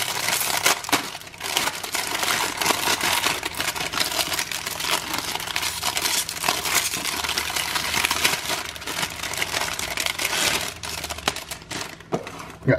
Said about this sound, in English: we're going to take this tray and we're going to open the plastic